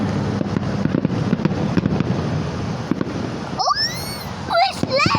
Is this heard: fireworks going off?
yes